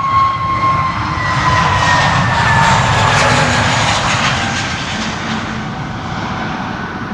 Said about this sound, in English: This is an EasyJet A320neo to Bristol.